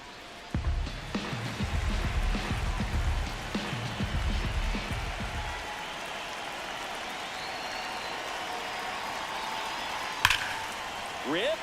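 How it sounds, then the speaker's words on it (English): Steady rain hissing across a ballpark in MLB The Show 26, a constant wash of patter that continues after low rumbling crowd noise and commentary fade, with one sharp crack near the end. "This rain is not letting up."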